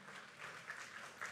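A church congregation claps in brief, soft, scattered applause at a sermon, heard faintly from a distance.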